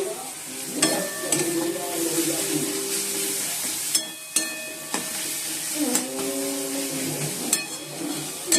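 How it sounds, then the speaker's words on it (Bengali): Onion and tomato fry in a pan with a steady, close sizzle, broken by spatula scrapes and sharp clinks against the pan's metal at irregular intervals. No one speaks. "পেঁয়াজ আর টমেটোটা একটু ভেজে নিচ্ছি"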